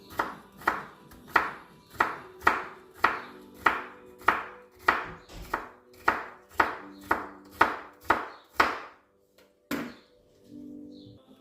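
A knife slices through bitter gourd (ampalaya) on a cutting board with about fifteen crisp, evenly spaced chops in a steady rhythm. The cuts are close and clear, with a brief pause near the end.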